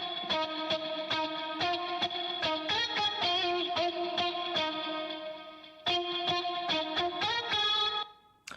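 Bright, processed guitar sample plays alone, a run of plucked notes with a steady rhythmic pulse and effects-laden tone, pausing briefly near the end before resuming and cutting off.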